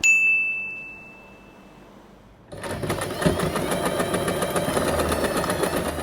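A sewing machine stitches a fabric scrunchie, running steadily and close up for the last few seconds after a high ringing tone and a quiet pause.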